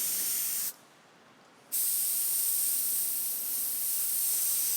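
Airbrush hissing steadily as it sprays paint onto a stretchy skull, a continuous close airy spray that stops for about a second and then resumes.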